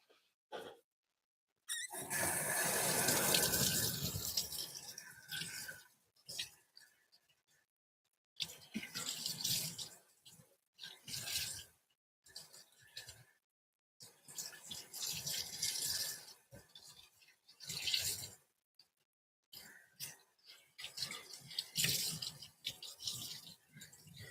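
Running water rinses LED tail lights during a Cadillac cleanup, a hissing spray that comes and goes in irregular bursts with brief gaps, fairly quiet overall.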